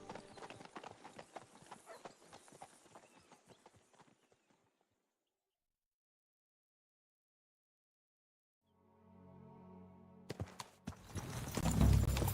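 Horse hooves clip-clopping at a steady walking rhythm in the video game Kingdom Come: Deliverance 2, then fading into silence before a low rumble and louder clattering noises return.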